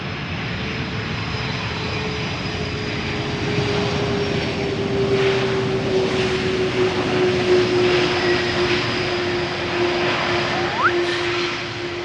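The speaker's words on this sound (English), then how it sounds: "flight 147 on its way to runway 27" An Emirates Airbus A380-800 taxis at Amsterdam Schiphol airport toward the runway on a sunny day, its engines giving a steady loud rumble with a sustained whine. The noise holds even and close for the whole stretch, with no talk.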